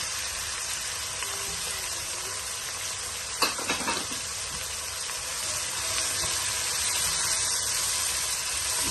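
Onions fry in hot oil in a pan, giving a continuous close hiss and sizzle broken by a brief clatter of stirring.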